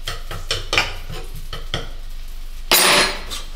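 Bacon frying in a pan, with a scattered series of short clattering stirs and scrapes followed by a louder, steady burst of sizzle near the end; close and clear, with no talking.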